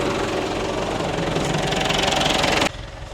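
A Massey Ferguson 178 tractor engine runs steadily during ploughing with a Dowdeswell plough. It gives a loud, close, rhythmic diesel knock that drops abruptly in level near the end.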